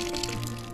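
Water rushes from a newly connected pipe at a tiny house utility hookup, a steady close, broadband gush with no talk over it.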